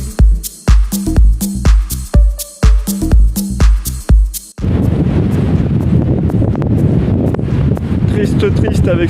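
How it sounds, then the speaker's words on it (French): Wind at a private carp fishing spot buffets the microphone in a loud, steady roar through the second half, following an opening stretch of talk. "Triste avec ce vent."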